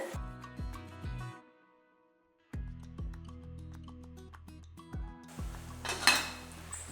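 A lid is set onto a cooking pot of pearl millet and liver fry, giving a few sharp metallic clinks and clanks that ring out over steady background music, with one louder clatter near the end.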